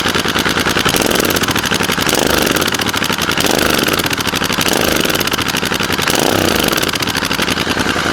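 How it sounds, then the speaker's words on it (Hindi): A GT 650 motorcycle with an SSP exhaust, dB killer and BMC filter is revved to about 2000 RPM in repeated swells every couple of seconds. The engine is loud and close, and no one speaks. "तो अभी 2000 RPM तक इसको रैप करते हैं"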